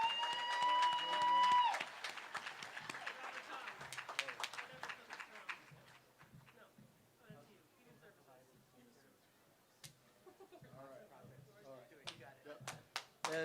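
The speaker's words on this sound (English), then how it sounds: "let's give them a round of applause for all their hard work here" Applause for first responders at a reopening celebration in Tacoma rises briefly, a burst of scattered clapping from a crowd that fades into sparse claps and talk.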